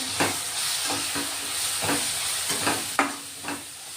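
Spices being stirred into mixed vegetables in a pan with chilli powder and garam masala, a steady sizzle broken by several scraping strokes of the spoon, close and moderately loud, no voices.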